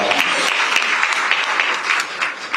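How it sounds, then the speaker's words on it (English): A brunch audience applauds its sponsors, many hands clapping in a dense, lively burst that holds steady and close throughout, with no voices over it. "Please give a round of applause to our sponsors."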